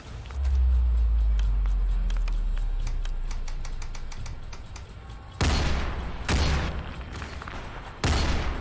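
Loud, sharp gunshots from the video game Fallout 4, in a horror-themed setting: three heavy blasts spaced a second or two apart in the later part, after a low rumbling stretch with scattered faint clicks and steps.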